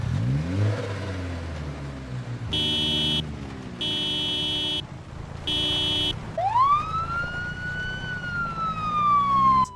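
A synthetic vehicle siren in Project Zomboid wails in repeated bursts, then a rising electronic wail sweeps up and holds, over a low engine rumble; no talking.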